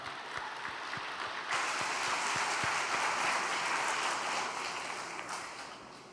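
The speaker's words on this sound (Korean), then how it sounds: "환영의 박수로 모시도록 하겠습니다" A church gathering gives welcoming applause as a young trainee comes up to give a testimony, beginning with a few scattered claps and swelling into fuller, steady clapping from the room that eases slightly at the close.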